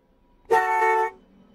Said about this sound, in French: Il a attendu un peu et a klaxonné à nouveau.